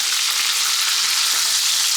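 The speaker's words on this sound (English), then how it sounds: "can you hear me over the sizzle here?" Steady, dense sizzling of quail frying in a hot pan, loud and continuous throughout with no voices.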